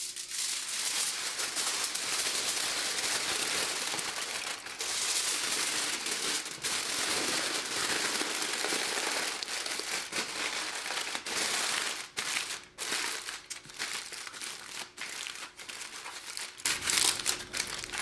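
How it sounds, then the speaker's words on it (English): Tin foil crinkling and crumpling as it is wrapped around a springform pan of lasagna, loud and close, a dense continuous rustle with sharp crackling bursts and brief pauses throughout. "now we're going to wrap it in tin foil before we put it into the Instant Pot"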